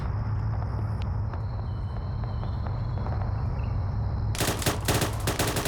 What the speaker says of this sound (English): There's the gunfire going.